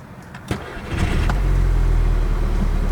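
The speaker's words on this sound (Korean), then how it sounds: "그리고 시동을 한번 걸어 볼게요." A Volkswagen Golf GTI engine cranks briefly and catches, then settles into a steady, loud low idle rumble close by, with no talking.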